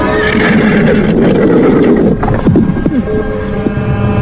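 A horse neighs loudly and close as a radio drama sound effect, a long whinny over a dense background, followed by fainter snorts and shifting movement.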